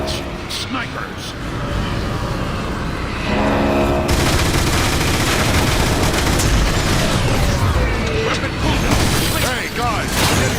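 Sniper and weapon fire in the Transformers: War for Cybertron game, a dense continuous barrage of shots and booms with mechanical clanks, loud and sustained, with a voice talking over it.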